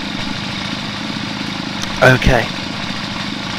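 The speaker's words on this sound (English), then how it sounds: "Oh, it's very noisy, the chainsaw." A chainsaw in the video game Starforge runs with a steady, droning engine hum that stays loud throughout, and a brief spoken word cuts in near the middle.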